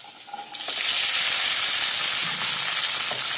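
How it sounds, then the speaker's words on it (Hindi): Soaked sabudana (tapioca pearls) drops into a pan of green chillies frying in oil, and the sizzle suddenly swells into a loud, sustained hiss and crackle. It stays close and steady, broken by a few stirring scrapes, with no talking. "अब उसमें 1 कप भिगो के रखा हुआ साबूदाना डालेंगे।"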